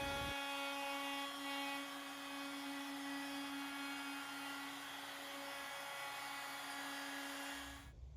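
A power tool routes a rounded profile along the edges of wooden coat rack pieces, producing a continuous high whine with a steady pitch that holds at moderate level for several seconds before cutting off.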